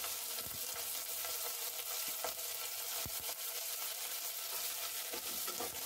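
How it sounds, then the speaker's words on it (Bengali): Chopped onion frying with garlic and green chillies in hot oil, giving a steady dense sizzle throughout with occasional faint stirring taps, close and continuous. "এই কুচানো পেঁয়াজটা একটু লাল করে ভেজে নেব।"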